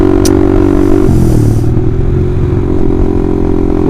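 A Honda CBR150R fitted with a loud Austin Racing aftermarket exhaust revs up close, a harsh, buzzy engine roar that climbs, then drops into a rough, throbbing idle on a busy street.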